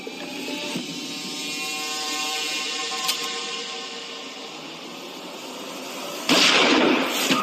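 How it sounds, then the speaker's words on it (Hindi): Gunshot fired in a Hindi film scene, a single sharp crack near the end that bursts loud and abruptly over a sustained tonal music bed. "सीधा गोली चला दी।"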